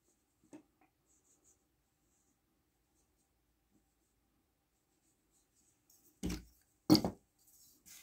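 A knife cutting through soft pastry dough on a board: mostly near-silent, with a faint tap early on, then two short, muffled cutting strokes close by near the end.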